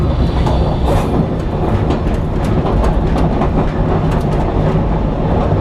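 The Savannahlander passenger train running on rails between Mount Surprise and Einasleigh, a loud steady rumble with rhythmic clickety-clack of wheels over joints, heard from on board with no talking.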